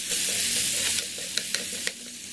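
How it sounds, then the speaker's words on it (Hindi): Peas and onions fry together in a pan, a steady close hiss of sizzling oil punctuated by a few sharp spatula taps and scrapes. "मटर को डालकर प्याज के साथ अच्छे से भूनते हैं।"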